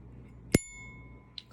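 A hardened brass Zippo lighter struck once, giving a single bright bell-like ring that sustains and fades, followed by a faint small clink near the end.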